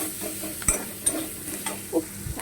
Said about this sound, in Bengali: তো এবার এটাকে ভেজে নেবো, ভালোভাবে লাল লাল করে নেবো।